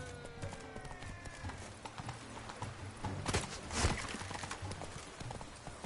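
Horse hooves clip-clop steadily in The Witcher 3: Blood and Wine, a continuous rhythmic trot over soft ambient game sound, with a brief louder swell near the end.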